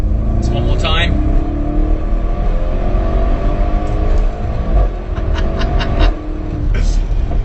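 A Porsche Panamera accelerating flat out in a race against an Audi, a loud steady engine roar with rising tones, heard from inside over road noise. A person talks at the same time.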